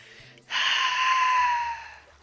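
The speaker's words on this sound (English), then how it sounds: "I know, I am breathing a lot." Heavy breathing straight into a microphone during a Terraria gaming session, one long, loud, close exhale with a hoarse, gasping edge that fades out after about a second and a half.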